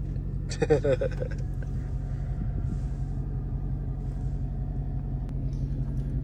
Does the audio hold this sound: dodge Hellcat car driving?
yes